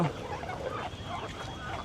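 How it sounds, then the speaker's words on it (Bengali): Domestic ducks quack and chatter faintly nearby in short low calls, mixed with rustling and background voices. "এই হচ্ছে আমাদের হাঁসগুলো"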